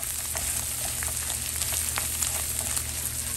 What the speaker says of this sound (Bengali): এটাকে আরো ভাজি করতে হবে, একটু কড়া ভাজি করব।